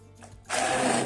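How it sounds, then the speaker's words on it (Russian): A blender whirs steadily as it purées cooked chickpeas with a splash of their cooking broth, starting up loudly after a brief quiet moment and running continuously. "Теперь я взбиваю нут, добавила частично бульончик немножко."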